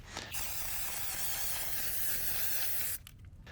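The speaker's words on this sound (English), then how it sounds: "I'm putting some glossy clear spray finish on it." A continuous close hiss of an aerosol can spraying glossy clear finish onto a ceramic ornament for about three seconds, then cutting off abruptly.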